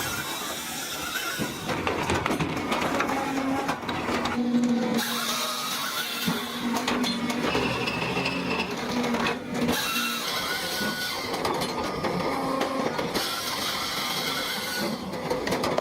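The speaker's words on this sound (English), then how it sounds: "The spinning circular saw drops instantly, a blur of steel slicing through wood with surgical precision." The spinning circular saw of a large log cutting machine rips through wood, a continuous loud whining, grinding roar with shifting pitch and rough texture that runs for the whole stretch, with no voices.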